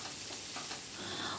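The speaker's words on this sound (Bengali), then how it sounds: "পেঁয়াজটাকেও এবার একটু ফ্রাই করে নেব" Garlic and chopped onion fry in a pan for a vegetable-peel dish, a dense, steady sizzle heard up close with no talking.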